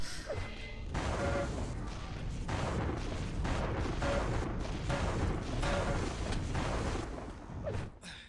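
Shotgun blasts in a DNF Duel fighting-game match, a rapid run of harsh crashing bursts across the whole stretch over dense game noise.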